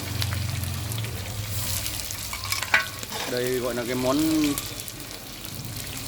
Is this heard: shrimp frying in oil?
yes